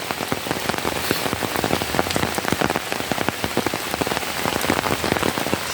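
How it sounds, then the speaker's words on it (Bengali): Heavy rain falls steadily near a patch of water hyacinth and taro plants, a continuous close hiss of countless drops pattering on surfaces, alone without talk. "এই যে সামনে বৃষ্টি হচ্ছে"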